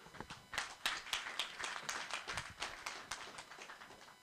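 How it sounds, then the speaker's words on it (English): Scattered clapping at a Nigerian university leadership event in Abuja honouring a chief, fairly faint and uneven, with hands striking irregularly throughout and no speech. "I want a stronger round of applause for our chief."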